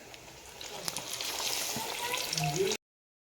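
Batter-dipped tomato bhajiya dropped into hot oil, giving a steady close sizzle and bubbling that swells and then cuts off abruptly.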